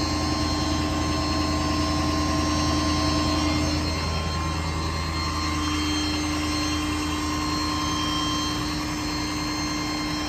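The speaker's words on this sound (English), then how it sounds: "Engine sounds healthy, the truck works, goes down the road as it should." A 2016 Ford F-550 diesel bucket boom aerial lift truck runs with a steady, loud, droning engine hum and whine, constant throughout without speech.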